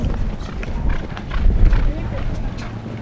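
A polo pony galloping during a 12 Goal Cup polo match, hoofbeats thudding in a fast rhythm at moderate distance beneath a commentator's continuous play-by-play.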